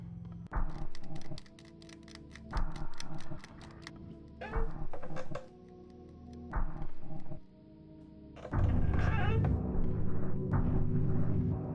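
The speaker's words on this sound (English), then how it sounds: "The clicking is getting louder now." In a horror video game, clicking comes from the ceiling as rapid trains of sharp clicks in repeated bursts, separated by brief pauses, then gives way to a heavier, louder rumbling stretch near the end.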